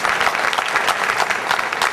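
Brisk, dense clapping from an audience at a college lecture event in Parbhani greets a welcome, steady and fairly close throughout.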